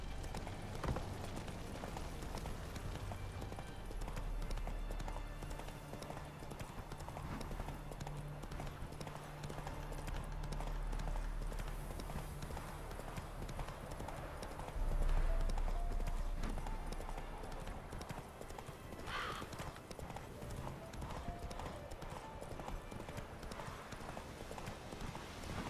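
Hooves of Roach, a horse in a video game, gallop in a steady clip-clop rhythm throughout, carried over a low game soundscape with a brief swell midway.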